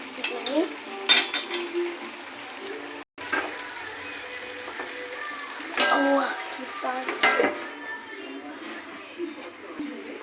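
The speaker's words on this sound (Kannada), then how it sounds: "ಈಗ ತಿರುಗಿಸಿ ಕೊತ್ತಂಬರಿ ಪುದೀನ ಒದಗಿಸ್ತಿದ್ದೀನಿ" Kuska rice being stirred in a pot with coriander and mint going in, a steady scraping and clinking of a spoon against metal with sizzling underneath, fairly close, uneven bursts with a brief drop to near silence midway.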